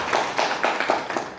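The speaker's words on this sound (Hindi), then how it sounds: "जो माएँ यहाँ आ चुकी हैं उनके लिए ताली बजा" Audience applause honoring mothers at a women's empowerment event celebrating the birth of daughters, a short burst of steady clapping with repeated swells, moderately close, no talk over it.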